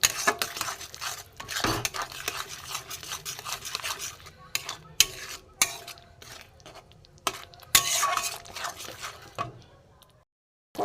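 A cauliflower curry is stirred and fried in a pan, heard as irregular scraping and clattering strokes of a utensil against the metal, close and uneven, over a low sizzle that thins out near the end.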